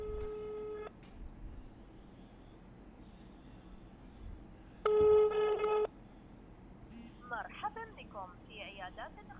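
An analog telephone line rings through a handset: a tonal ring burst at the start, another in the middle, then warbly electronic tones near the end over steady line hiss.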